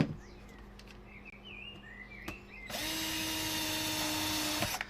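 A power drill bores a pilot hole to line up panels, a steady loud whir starting partway through and running for about two seconds before stopping, with faint birdsong in the quieter stretch before it.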